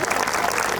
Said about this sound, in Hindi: आनंद भैया आइए, उनको एक बार फिर से ताली बजाकर स्वागत करें।